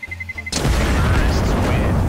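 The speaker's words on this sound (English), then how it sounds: "It is going to explode." Bomb exploding in Counter-Strike: Global Offensive, a sudden loud, close blast that cuts off quiet beeping and rumbles on in a sustained roar.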